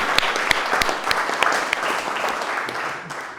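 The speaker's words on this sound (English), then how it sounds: "So a big round of applause for Jill and the Stick." Studio audience applauding for Jill and the Stick on a web show, a steady wash of clapping with a few sharper individual claps, fading slightly toward the end.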